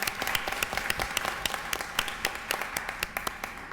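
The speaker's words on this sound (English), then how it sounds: "round of applause, everyone" An audience applauds at a zoo and city green restaurant certification launch: steady, moderately distant clapping with individual claps standing out throughout.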